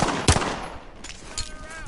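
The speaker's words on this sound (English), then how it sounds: "Oh, this is a shotgun." A shotgun fires in Call of Duty Modern Warfare, one loud sharp blast near the start, followed by fainter gunfire and game sounds trailing off.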